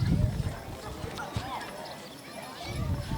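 Belgian draft mares pull a carriage in a parade, their hooves clip-clopping at a moderate distance, strongest at the start and end, while a voice talks over them.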